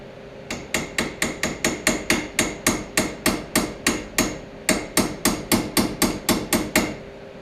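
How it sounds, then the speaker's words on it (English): Steady metal hammer blows pound out a part on a 1966 Ford Galaxie, about two dozen sharp, evenly spaced strikes in two runs with a brief pause between, loud and close with no talk. "I gotta pound it out from this end, because I couldn't get it to go from the other end"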